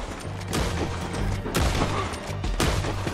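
Rapid gunfire in a Red Dead Redemption 2 shootout, loud repeated shots with heavy booming bursts about once per second over a dense, continuous din of battle.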